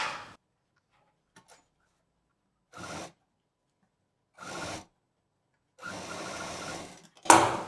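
Sewing machine stitching the lining bottom of a sling bag in four short separate bursts, the last one loudest and longest, with silence between runs.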